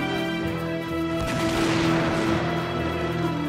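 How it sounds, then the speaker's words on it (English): A dense volley of musket fire rings out in an animated cartoon battle scene, a sustained burst of overlapping shots and booms that swells in the middle, loud and close, with no talk. "No! Stop! Stop firing! Cease fire!"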